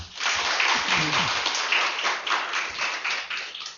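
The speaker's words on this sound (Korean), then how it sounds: "우리 박수 한번 해줘요." A church congregation gives a short round of applause during a sermon class, clapping steadily with voices mixed in underneath.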